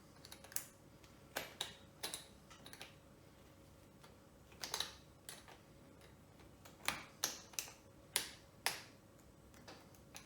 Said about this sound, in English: Has a little screwdriver area where you put your flathead screwdriver in. Tighten it up.